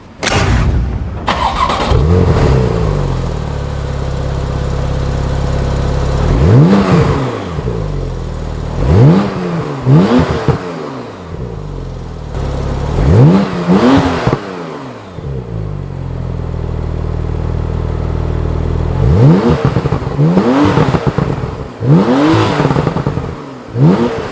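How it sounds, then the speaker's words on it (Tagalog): A 2014 Porsche 911 Turbo S with a quad exhaust starts up and idles, then is revved repeatedly in sharp blips that rise and fall, close and loud, with several quick rev bursts clustered together. "You have a quad exhaust system. Ang tunog niyan ay ganito."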